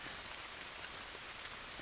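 Steady rain falls outdoors near a simple wooden hut on an island, a dense, even patter with no voices.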